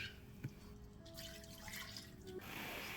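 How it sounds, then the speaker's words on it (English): A milk-powder mixture is poured into a Japanese-style ramen soup base, giving a soft, continuous liquid trickle and splash at close range, quiet throughout. "then I am pouring it into the soup mixture"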